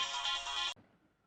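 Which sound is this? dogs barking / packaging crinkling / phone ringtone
phone ringtone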